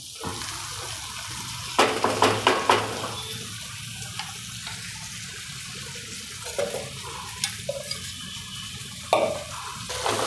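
Soft boiled peanuts are turned in hot oil for a Gujarati peanut curry, a steady low sizzle broken by occasional sharp spoon scrapes and taps against the pan, heard close with no voices.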